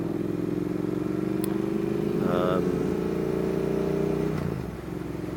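A new Triumph Thruxton R motorcycle being ridden toward St Albans, its engine droning steadily at moderate revs with a brief clattery rise midway, close and continuous before easing off near the end.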